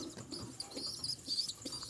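Jalali pigeons and their grown squabs coo and call softly in a loft, with faint, intermittent chirpy calls and low murmurs rising and falling over a quiet background.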